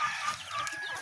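Chickens cluck and squabble over feed in a brief, low, muffled burst of clucking under a steady background hiss.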